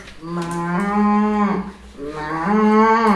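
A human voice imitating a cow, giving two long, loud, drawn-out moos close to the microphone with a short pause between them.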